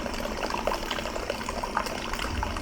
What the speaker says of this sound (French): je verse bien tout mon mou dans mon fermenteur en faisant un maximum d'oxygénation